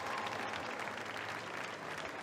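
A crowd at an under-19 lead climbing semi-final in Helsinki applauds and cheers a climber reaching a new high point, a steady wash of clapping heard from a distance, fairly quiet.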